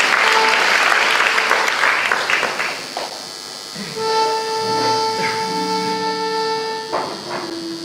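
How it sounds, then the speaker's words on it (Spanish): An audience applauds loudly at a tango orchestra concert at Casa del Bicentenario. The dense clapping dies down after a few seconds, giving way to long, sustained instrumental tones. "más fuerte el aplauso, por favor"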